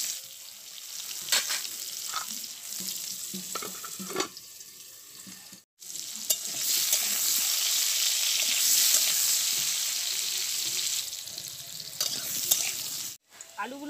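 Potatoes frying in a pan, a steady close crackling sizzle that fills most of the stretch, with brief stirring sounds and two short gaps of near silence.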